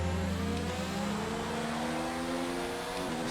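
A Formula 1 race car engine in the video game F1 2019, running flat out on a straight with a loud, steady high-pitched whine that shifts pitch briefly as it changes gear.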